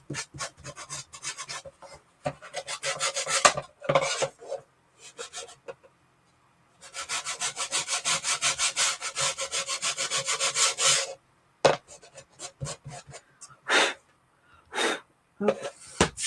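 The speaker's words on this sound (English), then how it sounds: "I'm going to go back in with a little bit of my wax to darken up those edges" Wax is rubbed by hand onto the chalk-painted edges of a piece, giving close, scratchy rubbing strokes in bursts with short pauses between them.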